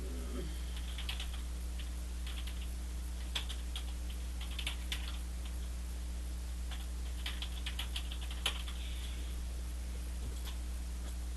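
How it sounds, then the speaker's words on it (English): Keys on a computer keyboard clatter in short bursts of rapid, light clicks with pauses between, close by over a steady low electrical hum, with no voices. "So let's go ahead and type"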